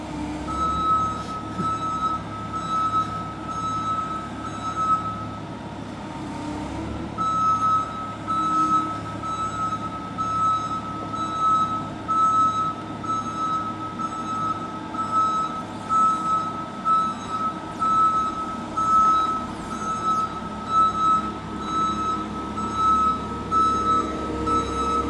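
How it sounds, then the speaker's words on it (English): A forklift's reversing beeper sounds inside a vacant former public bath house, a loud, steady electronic beep repeating at a regular pace for the whole stretch over engine rumble and room noise. "We're gonna have to disconnect the beeper. A little loud in there."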